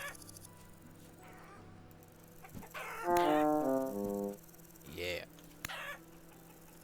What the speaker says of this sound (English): You go back here. That's a hen.